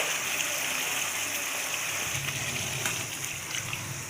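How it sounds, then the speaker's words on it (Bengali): Water is poured into a pan of potato curry masala with stuffed potatoes to make the gravy, a steady gushing, splashing stream heard up close throughout. "এবার ঝোলের জন্যে জল দিয়ে দিলাম"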